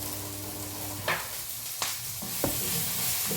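Sliced onions fry in a pan with salt, a soft steady sizzle close by, broken by three quick scraping stirs of a spoon.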